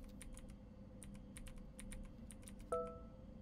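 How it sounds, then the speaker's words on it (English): Keys clack on an old computer keyboard as a password is entered in the horror game Fears To Fathom, a quick run of crisp, close presses in irregular bursts, followed by a short electronic tone near the end. "Let me type the password."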